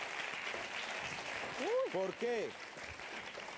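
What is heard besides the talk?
audience applause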